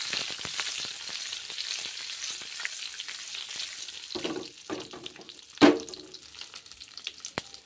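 A hot tempering of curry leaves and dried chilies is poured into vegetable idli sambar, giving a steady close sizzle and crackle with one sharp, louder burst near the end.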